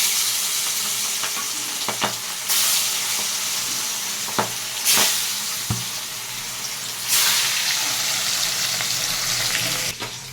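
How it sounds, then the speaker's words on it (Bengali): Salted, turmeric-rubbed katla fish pieces fry one by one in a pan with a constant hissing sizzle, broken by recurring louder bursts of spattering and a few sharp knocks of a utensil. "মাছগুলোকে আমি এক এক করে ভেজে নিচ্ছি।"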